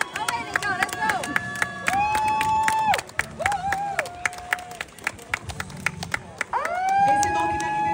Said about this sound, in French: Les encouragements, les applaudissements, les cris.